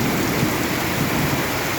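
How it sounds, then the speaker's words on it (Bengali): Heavy rain pours down steadily in a dense, continuous roar with no voices, loud and unbroken throughout, with low rumbling underneath. "এখন জোরে হচ্ছে বৃষ্টি, মুষল ধরে বৃষ্টি হচ্ছে"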